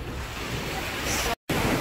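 Surf rolls in at Repulse Bay beach in Hong Kong as a loud, continuous wash of breaking waves mixed with wind buffeting the microphone, broken by one short dropout near the end.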